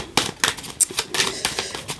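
Tarot cards being cut and drawn from the deck, giving a series of short, crisp papery snaps and slides at a steady pace, close and fairly loud with no talking.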